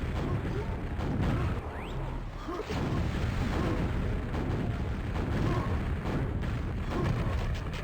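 Rocket launcher blasts and explosions in a QuakeWorld duel come as repeated booming bursts over a continuous rumble, loud and close throughout.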